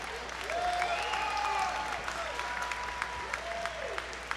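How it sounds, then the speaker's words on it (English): Applause for mixed martial arts fighters after a three-round bout at a Coveted Fighting Championship event, steady clapping from a crowd that holds evenly throughout, with some whistles and calls over it. "Ladies and gentlemen, a big round of applause for both of these coveted fighting championship warriors"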